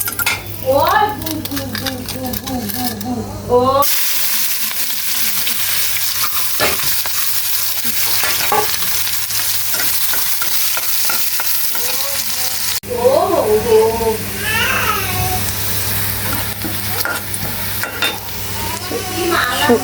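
Curry leaves sizzling as they drop into hot oil for a Bengali tempering, a steady loud fry with occasional stirring and clinks of a pan, a voice and chatter heard at times over the sizzle.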